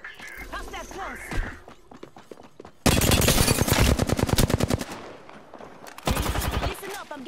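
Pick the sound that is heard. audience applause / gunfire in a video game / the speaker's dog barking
gunfire in a video game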